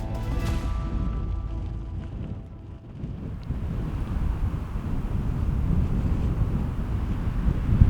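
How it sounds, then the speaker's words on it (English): Strong wind from a Sahara desert sandstorm roars steadily and close, with rumbling gusts buffeting the microphone for the whole stretch. "The wind is still blowing and there is sand everywhere in the tent."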